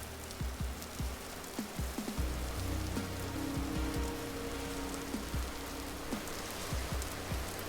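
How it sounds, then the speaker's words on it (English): Rain falls steadily in the survival video game Vintage Story, a soft continuous patter with scattered droplet ticks and a low hum beneath, no talking. "Oh, speaking of which, it's raining."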